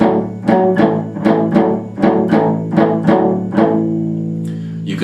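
A clean run of about a dozen palm-muted electric guitar notes, plucked in an even rhythm, each short and damped, with the last note ringing out into quiet.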